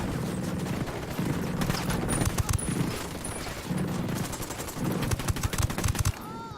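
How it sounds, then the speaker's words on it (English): Bursts of automatic gunfire crackle in Ghost Recon Wildlands, with rapid volleys coming in repeated waves and brief gaps between them. "Opening fire."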